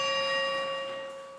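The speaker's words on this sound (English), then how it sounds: "The bells from the majestic clock tower atop the old City Hall still ring all day long" A bell from the clock tower atop the old Grand Rapids City Hall, now kept at the public museum, rings one clear sustained stroke that decays slowly over about a second and a half, alone.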